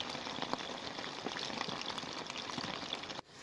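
Taro pieces fry in hot oil, giving a dense, continuous crackle and bubbling hiss for about three seconds before it drops off sharply near the end.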